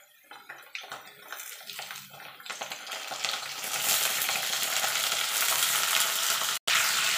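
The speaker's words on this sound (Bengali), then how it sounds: "আলুটা একটুখানি ভাজা ভাজা করে নেবো" Potatoes and drumstick pieces hit hot oil in a pan, starting with scattered sputters and stirring scrapes, then building into a loud, continuous sizzle that holds steady, with a brief dropout near the end.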